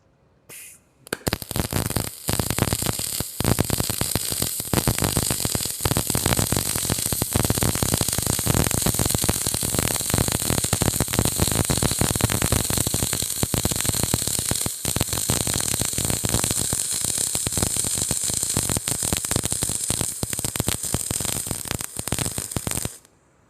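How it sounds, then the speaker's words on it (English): MIG welder laying a continuous bead on an aluminum piece, a loud, steady crackling hiss and buzz running unbroken for about twenty seconds close by, starting and stopping abruptly, with no talking. "So we're going to go ahead and we're going to MIG this piece all the way across right here."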